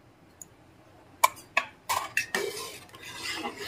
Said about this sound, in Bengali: আরো একটু নেড়ে চেড়ে নিলাম।